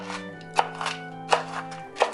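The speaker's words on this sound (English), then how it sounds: "So once we finish chopping these" Pecans being chopped by hand with a knife, three sharp knocks of the blade on a cutting board spaced about two-thirds of a second apart, close and fairly quiet over a soft steady background.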